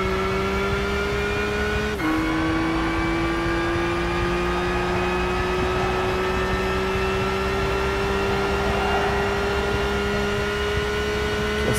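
A 2002 Nissan Skyline GT-R V-Spec II Nür (R34) engine in Gran Turismo 5 drones loudly and continuously, dropping in pitch at a gear change early on and then climbing steadily as it accelerates, with no talking.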